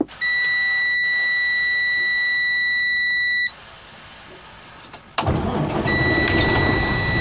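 A truck's ignition sounds a steady electronic warning chime for a few seconds, then after a brief pause the engine cranks and fires into a loud, rough idle while the tone returns.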